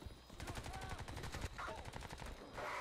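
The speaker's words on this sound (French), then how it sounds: "That's a gun." Rapid automatic gunfire in the video game Crysis 2, a dense run of loud repeated shots with brief breaks between bursts and faint talk underneath.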